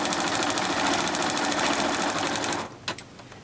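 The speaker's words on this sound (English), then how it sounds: "The second round of stitching just tacks the Mylar down and holds it in place for you." An embroidery machine stitches a Mylar tack-down in a fast, steady mechanical chatter of needle strokes, loud and close, then stops abruptly, leaving a few faint clicks.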